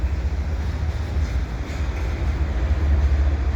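A CP eastbound double-stack container train rolls past at Dorval on a sunny winter day, its ES44 distributed power locomotive in the consist, giving a steady low rumble of wheels and cars that stays fairly loud and continuous.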